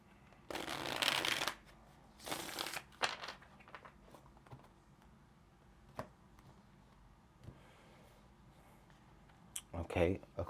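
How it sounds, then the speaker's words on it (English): Tarot cards shuffled in several bursts of crisp riffling and flicking, loudest near the start and again at the end, with quieter taps and shuffling between. "Let's get one more shuffle."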